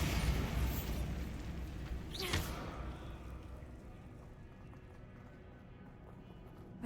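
Bombarda explosion spell in Hogwarts Legacy sets off a loud burst with a sharp crack about two seconds in, then dies away into a fading rumble and quiet game ambience.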